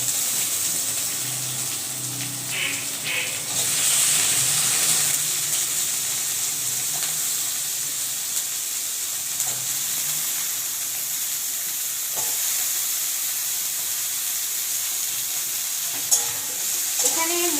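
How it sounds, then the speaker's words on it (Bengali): Vegetables fry and get stirred together in a pan for a Bengali home meal, giving a steady close sizzle with scraping stir strokes throughout and no talking. "তো আমি সব একসঙ্গে দিয়েই ভাজবো"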